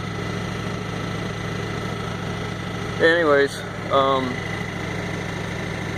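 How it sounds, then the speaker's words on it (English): A 2004 Ford F-150 crew cab 4x4 with the 5.4 engine, carrying a lean-running fault, idles with a steady low hum throughout, while someone speaks briefly over it. "engine running test"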